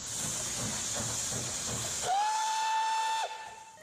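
A classic toy train's steam whistle gives one steady, fairly loud tone that holds for about a second, cut in sharply after a stretch of hissy broadband noise, and then stops abruptly.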